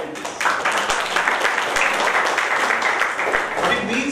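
Audience at a corporate social responsibility talk breaking into steady, moderate clapping that continues evenly for several seconds.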